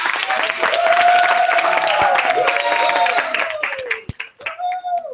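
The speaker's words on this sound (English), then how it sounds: "Let's give a round of applause for our junior lights." A Vacation Bible School crowd in a church applauds the junior lights group, with dense clapping and some cheering mixed with voices and a sustained tone, thinning and breaking up near the end.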